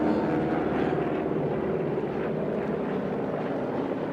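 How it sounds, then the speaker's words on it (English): Racing airplanes roar past pylons at the 2019 STIHL National Championship Air Races over the desert, a continuous, loud droning engine rumble that holds steady throughout with no voices. "Those 2 planes right there, Gunslinger and Radial Velocity."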